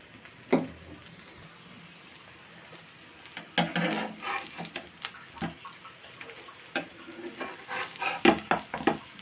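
Oats cutlets frying in oil in a pan, heard as soft sizzling with irregular clicks, taps and spatula scrapes that grow busier toward the end.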